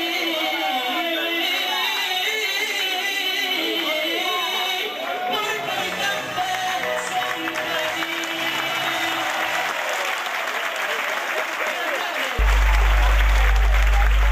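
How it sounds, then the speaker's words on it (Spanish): Dinner audience hosted by mayors from Ourense applauds a copla and flamenco singer, sustained clapping with a festive tune playing beneath it, ending abruptly in a different steady tone near the end. "A puro aplauso"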